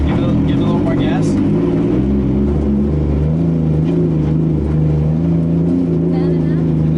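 A 2JZ-swapped Nissan 240SX drift car engine runs loud and close at a steady raised idle, a deep continuous drone with slight rises under more throttle, with people's voices faintly mixed in.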